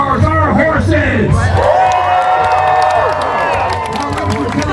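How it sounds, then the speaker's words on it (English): A crowd at a Renaissance fair joust cheers, whoops and applauds loudly, with children shouting and a voice calling out over the noise. "How about a great big cheer for the real stars, our horses?"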